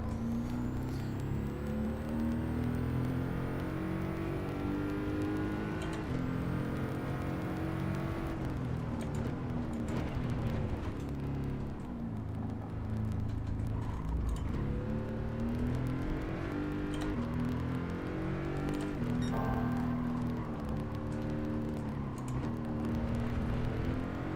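Race car on the Laguna Seca track in Gran Turismo 7 with traction control off, its engine steadily revving and shifting through gears in a continuous drone that rises and falls through corners.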